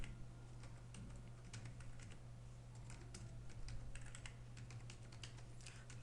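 Steady keyboard typing while entering figures into an Excel spreadsheet, a run of close, crisp key clicks with an uneven rhythm over a low constant hum, with no talking.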